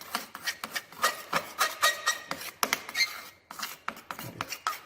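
Soil being mixed thoroughly in a laboratory dish for a shrinkage limit test, giving a steady series of close scraping, rasping strokes with short pauses, no voices.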